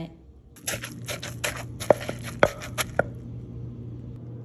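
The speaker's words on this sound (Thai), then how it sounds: "หอมพริกแล้วก็โขลกไปเลยค่ะ" A pestle pounds shallots and chilies in a mortar with a few wet, sharp thuds, then settles into softer crushing, close by and alone.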